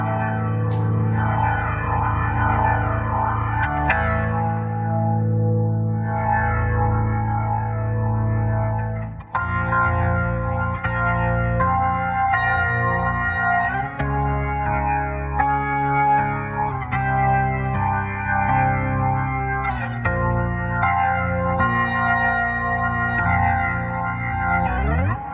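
Valkure Guitar Organ app on iOS plays a heavy, distorted progressive metal riff, dense sustained organ-guitar chords shifting steadily with chorus and echo effects, loud and continuous with no talking.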